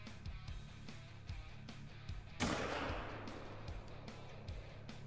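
A single sharp rifle shot rings out at an animal in The Hunter: Call of the Wild, a sudden burst with a short decaying tail, set against a quiet ambient game background with faint rhythmic clicks.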